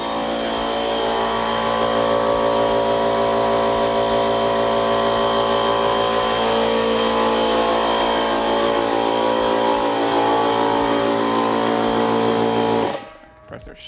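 A garage air compressor drones loudly and continuously for about thirteen seconds, then shuts off abruptly, leaving near quiet.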